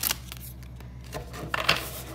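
A new tarot card deck is shuffled for the first time, with soft papery riffles and brief flicks of cards coming in a few quick bursts, close and quiet.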